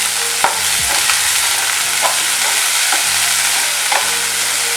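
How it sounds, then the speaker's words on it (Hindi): Onion and green chili frying on a medium flame give a steady, loud sizzle, with a few sharp clicks from stirring spread through it and no voices. "ऑनियन, ये ग्रीन चिल्ली है, इसको भी डाल देंगे। फ्राई करेंगे मीडियम फ्लेम पे।"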